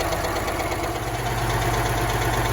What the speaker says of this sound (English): So I just have to live with this big rich idle just for now